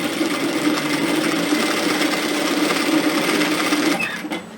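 A sewing machine stitches a seam on a bias-cut slip nightgown, a steady close rapid whirring run that slows and stops near the end.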